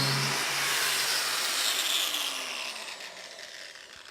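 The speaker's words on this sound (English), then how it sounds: "So to trim the disc, use any 90-degree sharp edge, such as this piece of metal here." Norton EasyTrim flap disc being trimmed against a sharp 90-degree metal edge, a single continuous abrasive grinding rasp lasting a few seconds and fading toward the end, close and without talk.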